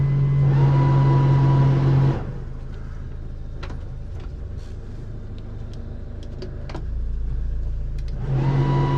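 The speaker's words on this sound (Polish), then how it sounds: "Uruchamiamy stery strumieniowe" Bow thrusters on a cruising sailing boat in the Stockholm archipelago drone loudly with a steady tonal hum, cut off for several seconds to a quieter rumble, then starting up again.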